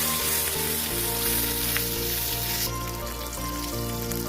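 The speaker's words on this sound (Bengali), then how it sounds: "ওই তেলের মধ্যেই কালো জিরে, চেরা কাঁচা লঙ্কা আর বেগুন দিয়ে ভালো করে নেড়ে চেড়ে নিলাম।" Nigella seeds, slit green chilies and eggplant frying in oil left over from frying hilsa fish, giving a continuous close hiss of sizzling with light stirring, partly under a musical backing.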